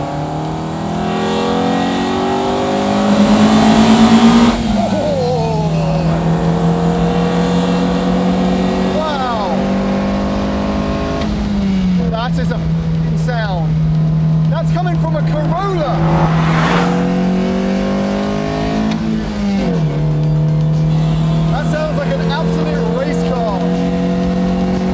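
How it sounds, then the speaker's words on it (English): Toyota AE86 hatchback engine revved hard in second gear with heavy intake noise, a loud steady drone that climbs in pitch through several pulls, punctuated by shifts, under continuous in-car road roar. "There's a lot of intake noise"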